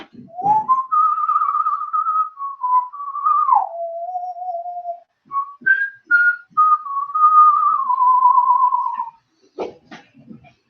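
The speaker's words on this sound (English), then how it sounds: "Your favorite operas whistled" A lone person whistles an opera melody, with long sustained tones gliding between pitches in clean phrases separated by brief pauses, close and clear with nothing else underneath.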